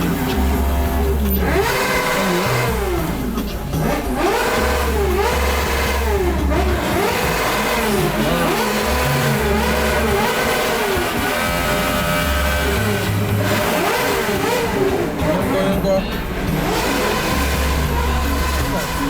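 A motorbike engine revs continuously up and down at a West African border crossing, loud and close, with rising and falling whines over a steady rumble and voices mixed in.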